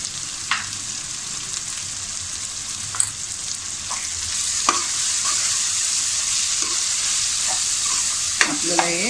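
Masala with ginger-garlic paste and turmeric sautéing in a pan for egg biryani, a steady close sizzle with scattered stirring scrapes and clinks of a spoon against the pan, no voices.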